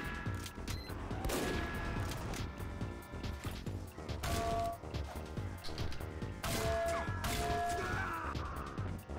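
Gunfire and crashing impacts from the Team Fortress 2 video game as a sentry gun is destroyed on the 2Fort map, a dense, continuous barrage of loud shots and clanks filling the whole stretch with game music and effects layered underneath.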